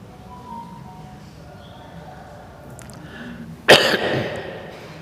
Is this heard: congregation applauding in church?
no